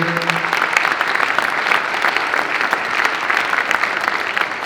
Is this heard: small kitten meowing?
no